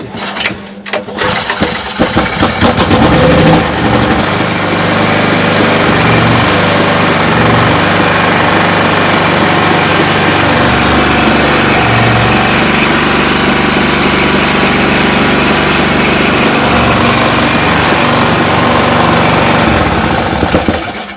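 Petrol generator engine starting up, then running steadily at a loud, close rumble with slight fluctuating revs after a brief rough start; the unit had a fault with hunting revs and later failed to start.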